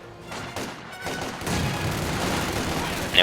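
Battlefield gunfire in Company of Heroes 2, including machine-gun fire, a dense rattle of overlapping shots and booms that builds in loudness, ending with a sharp crack.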